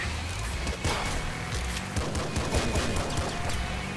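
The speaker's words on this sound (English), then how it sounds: "I'm getting shot with bullets for now" Sustained gunfire in the video game Nuclear Throne: a dense, continuous crackle of shots with no pauses, loud and close throughout.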